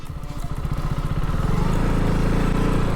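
A motorcycle engine revs hard and steadily louder on a rough mountain road while the bike is stuck, with a rapid pulsing beat building to a sustained, close roar and no talk.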